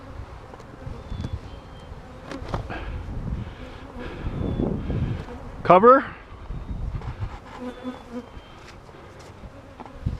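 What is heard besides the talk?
bees flying from a nuc hive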